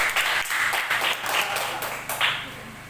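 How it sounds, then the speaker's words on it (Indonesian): Students in a classroom clap for group 1, a short round of uneven, fairly close hand claps with distinct bursts and gaps that thins out and fades toward the end. "Sekali lagi tepuk tangan untuk kelompok 1."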